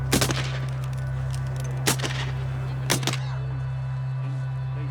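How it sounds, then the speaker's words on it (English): Civil War reenactors firing muskets by file, one after another down the line at a living history event at Rippa Villa in Spring Hill, Tennessee; several sharp, loud blasts come a second or so apart over a constant low hum. "So they're firing by file."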